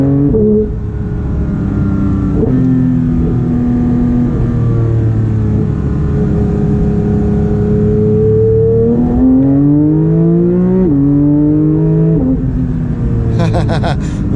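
A Porsche 992 GT3 in sport mode drives through turns, its engine droning loud and close. The pitch climbs and drops repeatedly as it revs through the gears.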